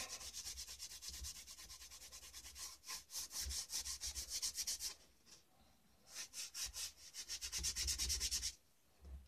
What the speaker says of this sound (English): I got an old sock, something cotton, and just sit there and rub it